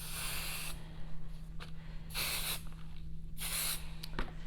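Spray baste adhesive misted onto fabric in three quick hissing bursts, close and fairly quiet, with a faint steady hum and small handling sounds between sprays.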